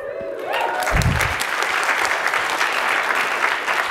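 Audience applause at a design conference talk, a dense burst of clapping that rises quickly and holds steady and loud for several seconds.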